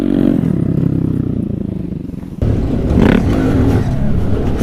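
A car passes close by, its engine and tyre roar building, dipping, then surging again with a sharp jump in loudness partway through, loud and near with no talk over it.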